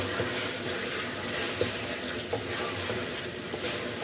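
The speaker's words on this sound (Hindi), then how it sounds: "चिकन को हम भून लेते हैं।" Chicken for Lahori biryani fries in a pan with a steady, dense sizzle and occasional light stirring scrapes.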